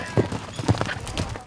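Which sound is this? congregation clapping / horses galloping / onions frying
horses galloping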